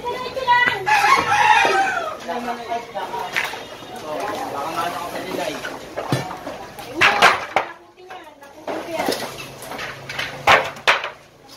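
Chickens and a rooster in a backyard coop with cages, clucking and crowing repeatedly nearby while people talk in the background.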